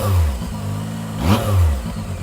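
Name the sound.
Zontes 703F motorcycle engine revving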